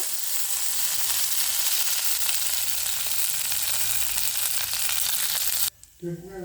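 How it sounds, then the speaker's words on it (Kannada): Mustard seeds, asafoetida, dried red chili and curry leaves sizzle loudly in hot oil for a radish gojju tempering, a steady close hiss that cuts off near the end as a voice begins speaking. "ಹಾಗೆ ಇದು ಒಗ್ಗರಣೆ ಕಾದಿದೆ"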